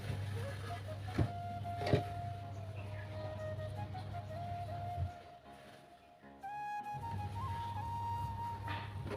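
A sewing machine stitching a chudidar top whirs steadily at moderate volume, pauses briefly midway, then resumes its even mechanical hum.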